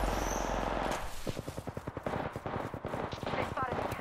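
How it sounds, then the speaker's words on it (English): Automatic weapon fire in the video game Apex Legends: rapid bursts of closely spaced shots rattling in a fast rhythm, loud and close, after a brief stretch of other game noise. "They spotted me. I'm taking shots."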